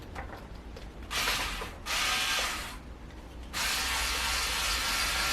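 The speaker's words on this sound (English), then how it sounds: "So let's get the strings off." Tuning pegs on a 1970s Gibson Les Paul recording model being turned to slacken the strings, heard as close, rasping bursts of grinding friction that start and stop in a few long stretches.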